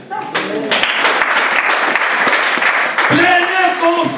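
Congregation at a French-language church service breaking into loud, dense applause, a sustained crowd clatter with a voice rising over it near the end.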